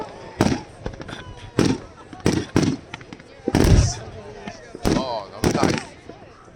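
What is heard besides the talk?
fireworks exploding at Vestlia Resort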